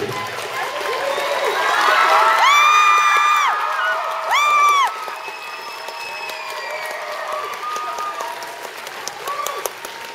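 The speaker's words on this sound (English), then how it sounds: "Give him a warm round of applause." Audience applause and cheering at InvaderCon 2012 greeting Jhonen Vasquez, a loud sustained wash of clapping with whoops and shouts rising over it, easing to steadier clapping in the second half.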